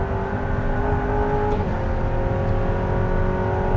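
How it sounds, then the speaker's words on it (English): An Aston Martin hypercar engine runs hard near the limiter, a loud continuous mechanical roar with a brief break in tone around the middle where a harsh gear shift lands. "it's quite easy to tag the limiter, and then you get that super harsh gear shift"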